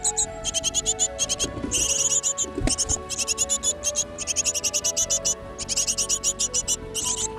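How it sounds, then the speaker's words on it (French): Great tit nestlings in a nest in Côtes d'Armor give shrill, rapid begging calls in repeated bursts throughout, loud and close over a low steady background hum. "Ils piaillent pour réclamer de la nourriture."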